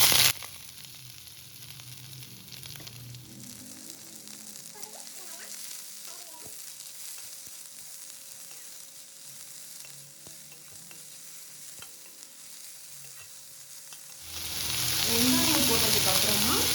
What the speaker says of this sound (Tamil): பெரிய சைஸில் 2 வெங்காயம் நறுக்கி எடுத்து வச்சுருக்கேன். அதை எண்ணெயில் போட்டுடலாம்.